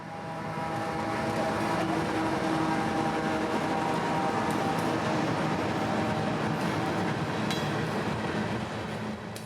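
A mixed freight train rumbles steadily past at close range near Folkston, Georgia, with a continuous loud roll of wheels and cars and faint metallic clicks and squeals throughout, no talking.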